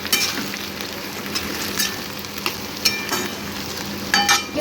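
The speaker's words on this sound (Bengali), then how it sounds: "পেঁয়াজটা ভাজতে দিয়ে দিলাম" Chopped onions frying in a pan on a home stove, a dense continuous sizzle with occasional crackles and faint utensil clicks throughout.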